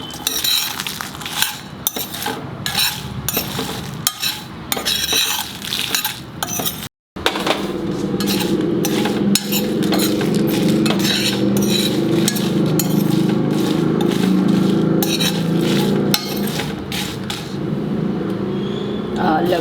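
Spices being dry-roasted in a pan for chicken curry, stirred steadily with a utensil: continuous scraping and clinking against the pan, loud and close, with a brief gap partway through.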